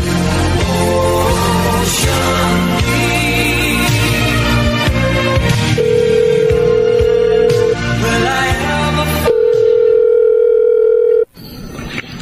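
A steady telephone dial tone over background music, sounding alone for a stretch before cutting off abruptly near the end, heard while calling Vanessa.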